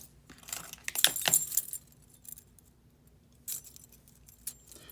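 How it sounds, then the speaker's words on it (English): Quiet rattling and clinking from the rattle ball inside a knuckle bait fishing lure, shaken in short bursts with a louder jangle early on and a few faint rattles after. "This knuckle bait has, like, instead of a blade, it has a ball that makes a noise"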